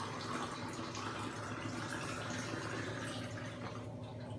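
Water is poured by the glass into a cooking pot for a homemade immunity kadha, a steady continuous splashing and rushing pour heard up close without talk.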